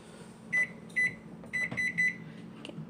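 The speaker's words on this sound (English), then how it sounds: "let's go set that timer again" A kitchen timer being set, likely on a microwave, gives several short electronic beeps, some single and some in quick pairs, close by over a low room hum.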